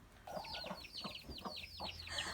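A stressed cockerel clucks in a rapid series of short, agitated calls, close by and fairly loud, with no talking.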